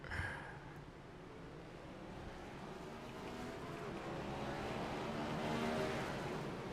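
Race car engines in the iRacing video game at Iowa Speedway during a Cup race, a steady, fairly faint drone that slowly swells and fades as the cars circulate, with no talk.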